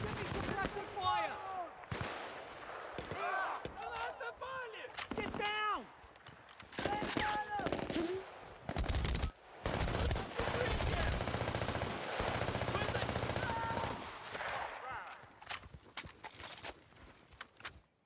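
Bursts of automatic gunfire in the Xbox 360 game Battlefield: Bad Company, loud and repeated in sharp volleys with heavy impacts, mixed with voices talking over the shooting.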